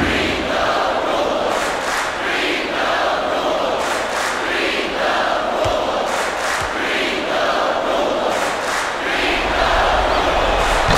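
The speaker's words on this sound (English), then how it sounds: "The crowd is trying to make a lot of noise right now." A college basketball arena crowd roars steadily through a home game, a loud, dense wall of cheering and shouting with rhythmic surges.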